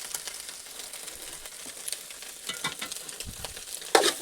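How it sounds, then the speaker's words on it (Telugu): Egg frying in a pan while egg pulao is being made, a steady sizzle with soft stirring scrapes and a louder scrape near the end, heard alone without any talking. "ఎగ్ అయితే మనకు మంచిగా వేగింది"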